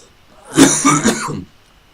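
A single short cough or throat-clearing burst, close and fairly loud, lasting about a second before silence returns.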